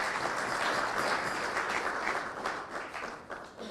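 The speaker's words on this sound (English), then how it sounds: "I think you clap for him again." An audience at a memorial lecture for Mwai Kibaki claps in sustained applause, loud and dense at first, then thinning slightly toward the end.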